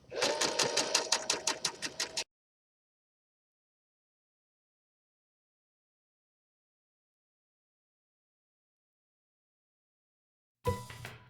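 A sewing machine stitches a skirt seam in one fast, loud run of rapid regular needle strokes, then stops into silence before a brief second burst at the end.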